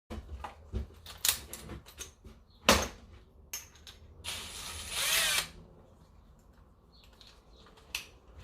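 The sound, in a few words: hole saw drilling a hole for an oil catch can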